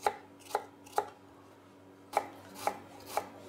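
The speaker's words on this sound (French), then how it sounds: "On va ciseler l'oignon." A knife finely chops a red onion on a board, six crisp close thumps in two groups of three with a short pause between and no talk.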